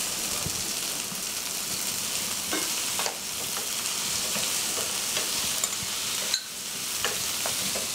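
Blanched broccoli and spinach fry in a pan with cream, giving a dense continuous sizzle, with occasional clacks of stirring breaking through the steady crackle.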